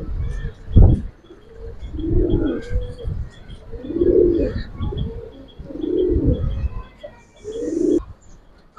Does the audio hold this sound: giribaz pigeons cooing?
yes